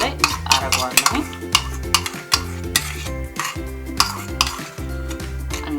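Tomato paste is stirred in a frying pan for Ethiopian firfir, with steady scraping and sizzling strokes repeating over several seconds beneath a loud, regular musical backing.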